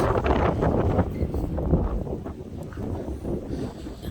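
Gusty wind on a stormy-looking morning on the Wilmington, North Carolina coast buffets the microphone in a steady low rumble, swelling slightly early on and then easing.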